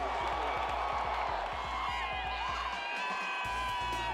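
Basketball arena crowd at a men's college tournament game roaring and cheering after a three-pointer, a dense, sustained wall of cheering with whoops and clapping throughout.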